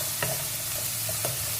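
Garlic and shallots sautéing in oil in a pan for moringa leaf thokku, with a steady close sizzle and two brief spoon scrapes against the pan, no voices.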